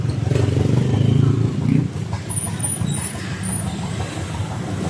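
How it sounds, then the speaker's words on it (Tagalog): A motorcycle engine rumbles past nearby on a road, loudest in the first two seconds and then easing into a lower steady drone, with faint voices in the background. "Oh, may motor."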